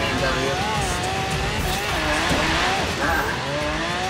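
BMW car in Forza Horizon 3, its engine revving loudly with wavering pitch as tires squeal, while a person talks over it.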